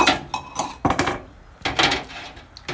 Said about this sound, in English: So now I'm washing dishes with our last soap and